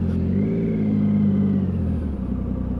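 A Triumph Sprint motorcycle engine purrs with a smooth, steady low droning tone, rising slightly before settling back, close and fairly loud.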